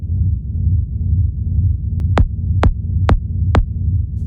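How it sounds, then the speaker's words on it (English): A dark techno kick drum triggers a low-end drone from UVI Bloom, set as a mono send effect; four evenly spaced punchy kicks land in the second half over a constant loud, throbbing low drone. "Bloom isn't used here as a reverb, but as a low-end drone that is triggered by the kick"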